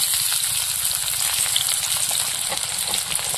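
Onion and bay leaf frying in hot oil in a wok, a dense steady sizzle with crackling spatter throughout, loud and close with no talking.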